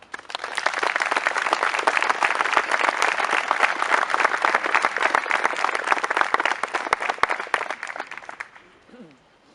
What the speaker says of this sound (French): nous pouvons également applaudir